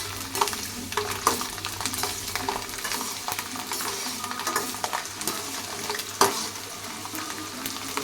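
Garlic fries in hot oil for mint chutney, giving a steady close-up sizzle that lasts throughout. Occasional scrapes and clinks from stirring cut through it, and no one speaks.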